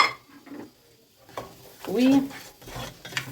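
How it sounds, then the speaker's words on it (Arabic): Whole spices (cinnamon, bay leaf, cloves) being stirred into onions in a pot for chicken kabsa, with soft sizzling, scraping of a spoon against the pot and brief clinks, intermittent and close, with faint talk in the background. "نشوح التوابل دي كلها في البصل شويه"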